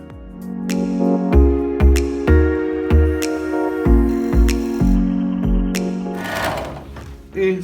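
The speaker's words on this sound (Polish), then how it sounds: "Zaczynamy toczenie, ściskamy konikiem." A workshop lathe turns a workpiece held by the tailstock, giving repeated rhythmic pulses of motor whir and cutting noise that rise and fall several times, close and loud, ending with a brief harsh scraping burst.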